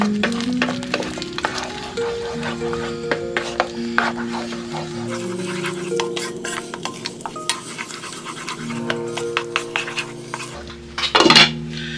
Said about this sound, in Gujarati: બધાને સરસ ફેરવી દઈએ.